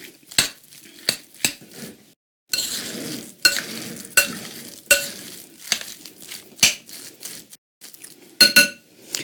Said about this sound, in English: so let's go ahead and put my basil and chickpea mix. Let's mix this up.